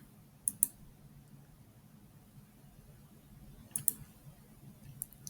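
Sharp, faint mouse clicks while editing a photo in GIMP on a computer: a quick double click, a pause, then another pair and a single click, over a quiet hum with no talking.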